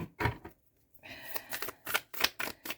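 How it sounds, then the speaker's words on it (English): A new deck of tarot cards is shuffled up close, giving a quick run of crisp riffling bursts with a short pause early on. Nobody speaks. "we'll give it a little bit more of a shuffle here"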